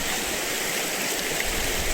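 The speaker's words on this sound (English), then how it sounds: "No obvious route really, fast flowing cold water" A fast-flowing cold stream on a Scottish trail makes a steady, loud, broadband rush of water that stays close and even from start to finish, with no voices.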